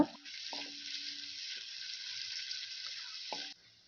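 Sliced onion stir-frying with ginger, green chili and garlic for vegetable noodles gives a steady, close sizzle, with a few brief scrapes and clinks of stirring near the start and again near the end before the hiss fades.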